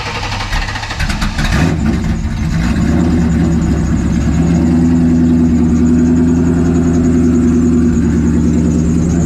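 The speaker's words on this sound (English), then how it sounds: "That's pretty much the alternator that's doing that noise." A car engine idles steadily with a continuous whine from its alternator and belt-driven pulleys after a belt replacement and X-pipe install, loud and close, a brief rattling start settling into a smooth, even drone.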